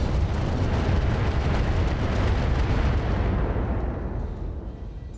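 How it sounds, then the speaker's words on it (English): Heavy weapon fire from a battle mech in the RogueTech game, a dense roaring barrage of explosive rounds that fills the whole stretch loudly, then tapers off toward the end. "we're probably better off firing AX rounds here"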